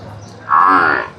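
A heavy milking buffalo at the Erragadda cattle market gives a single loud, close moo that swells in the middle and fades, over low background market noise.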